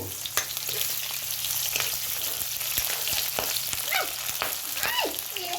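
Onion and chili fry in hot mustard oil with cumin, a continuous close sizzle broken by clicks and scrapes of stirring. A voice also makes a few short sounds.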